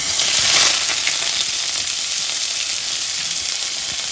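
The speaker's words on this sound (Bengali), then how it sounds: "মোচাটা ভাজবো মোচাটা পুর করার জন্য ভাজবো" Banana flower (mocha) fries in hot oil for a chop filling, a loud, continuous hissing sizzle up close with a slight swell near the start and no voices.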